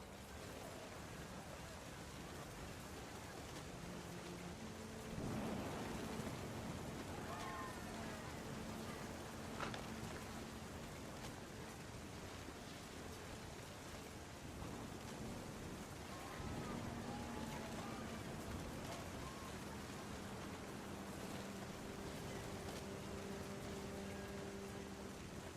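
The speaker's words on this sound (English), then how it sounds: "The thunder sounded much too close and full of angry power" Steady rain and rumbling thunder from a stormy scene in the video game What Remains of Edith Finch, continuous broadband downpour with low tonal hum and occasional brief louder rumbles, no talking.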